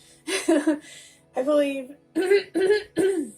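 Several short throat-clearing grunts in quick succession, close and fairly loud, with a few words spoken among them.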